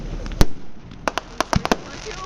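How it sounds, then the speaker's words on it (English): Fireworks at a college 50th anniversary celebration burst in sharp, loud cracks, one big bang followed by a quick irregular cluster of pops, with people talking nearby. "Fireworks over there going."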